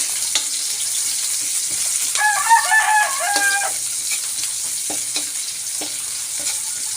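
Garlic and onion fry in a pan with a steady hiss, stirred with intermittent spatula clicks, while a rooster crows briefly in the background partway through; no talk.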